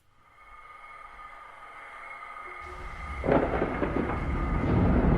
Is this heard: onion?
no